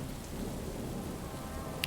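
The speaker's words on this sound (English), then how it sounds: "The rain is still louder." Heavy rain pours down in a stormy night scene with thunder rolling beneath it, a dense, even wash of falling water that never lets up and a brief sharp spatter near the end.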